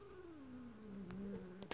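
A cat gives a single drawn-out, falling crying meow, faint and close, followed by a couple of brief clicks.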